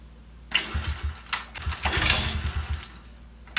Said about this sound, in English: Let's give it some dry kicks. See how it sounds with the exhaust.